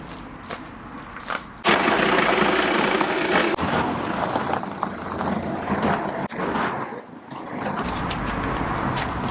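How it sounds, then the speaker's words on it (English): A VW Transporter T5.1 van's engine runs as the van is turned around outdoors, a low steady drone close by with a few knocks and shifts in level, no speech. "I'm just going to quickly spin the van round so that I'm not bothered by the noisy builders that are over the road"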